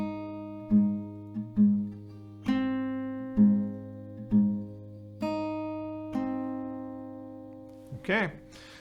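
An acoustic guitar picks out the F part of a melody, a run of about seven plucked notes, each ringing and decaying in a measured rhythm, followed by a short vocal sound at the end.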